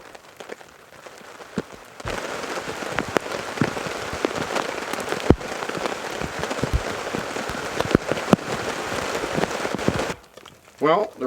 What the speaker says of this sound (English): It's been pouring all day.